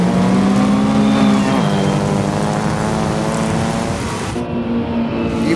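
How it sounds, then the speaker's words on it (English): Race car at Silverstone on a rainy day with a whining transmission: a loud, sustained engine drone with a steady tonal whine that shifts pitch slightly partway through, heard continuously and close. "Sounds like the transmission's whining a little."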